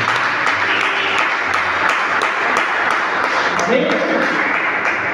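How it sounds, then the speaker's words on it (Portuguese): Church congregation clapping together in a steady wash of applause, with a voice speaking briefly over it. "Aplauda mais uma vez, irmãos queridos."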